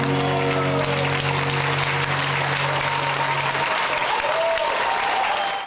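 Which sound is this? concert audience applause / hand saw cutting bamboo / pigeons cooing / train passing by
concert audience applause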